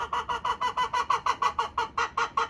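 Chickens in a backyard coop cluck in a steady, rapid series of about a dozen short calls, close and fairly loud, with no talking.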